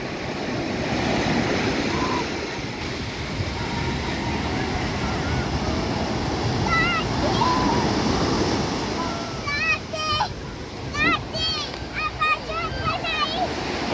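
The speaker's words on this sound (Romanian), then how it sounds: "Sunt valuri foarte puternice, dar e foarte, foarte plăcută marea." Strong sea waves rolling onto a beach at Phoenicia Blue View on a rough-sea day, with a continuous loud surf and wind wash; chirping birds join in the later part.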